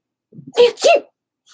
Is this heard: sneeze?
yes